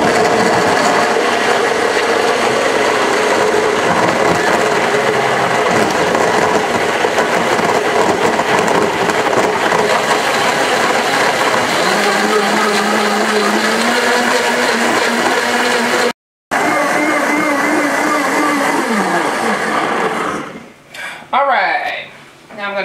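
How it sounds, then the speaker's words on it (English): A countertop blender runs loud and close, whirring steadily as it blends a green drink, with a brief cutout near the end before the motor winds down and stutters. "you just do your blender, whatever speed you need to do it on"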